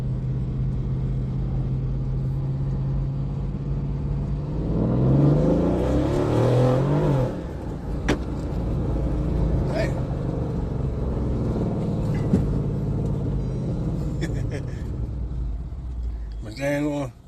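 Mercedes CLS550 engine rumbling nearby as the car drives and backs up, with a swell of revving partway through and someone talking over it.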